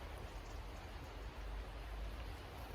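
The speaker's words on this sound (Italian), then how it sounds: "bella giornata per una passeggiata sotto la pioggia" Rain falls steadily through a forest canopy onto leaves and branches, a continuous, even hiss with no voices and no breaks.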